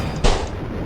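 Rocket launcher fired in a pirate video game: one sudden, loud, booming blast that decays quickly over a steady background.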